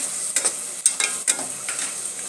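Prawns fry with garlic paste in a pan, giving a steady close sizzle broken by a few sharp stirring scrapes of a spatula.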